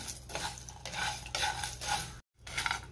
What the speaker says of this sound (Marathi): गॅसची फ्लेम मी लोवर ठेवून हे मसाले व्यवस्थित भाजून घेणार आहे